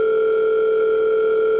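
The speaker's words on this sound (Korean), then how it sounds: "아 전화를 한번 해봅시다." A steady telephone dial tone hums alone while a call is being placed, two clean sustained tones holding level and fairly loud with no voices.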